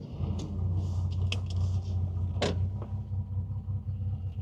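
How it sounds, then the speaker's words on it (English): A 1973 Datsun 240Z with an inline-six engine and four-speed manual idles with a low, steady rumble close by, punctuated by a few short clicks and knocks. "Starts right up."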